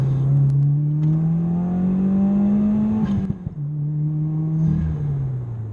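A 2015 Subaru WRX on a stage 2 tune, running about 19 psi of boost, pulls hard through third gear, its engine note climbing steadily before a brief break around a shift and then droning on, loud and close.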